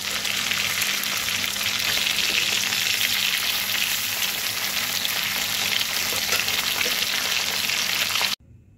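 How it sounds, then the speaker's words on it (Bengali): Khoira fish frying in hot oil, a steady close broadband sizzle that holds evenly for about eight seconds before cutting off abruptly near the end. "মাছগুলো ভেজে উঠিয়ে নিলাম"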